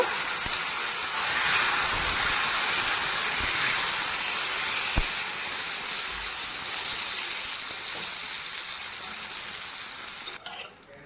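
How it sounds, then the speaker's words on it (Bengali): Cut eggplant pieces fry in oil in a wok for a Bengali shukto, a loud steady sizzle and hiss that continues throughout with occasional stirring, then trails off at the end. "এরপরে আমি কড়াইতে কেটে কেটে রাখা বেগুনগুলো দিয়ে দেব"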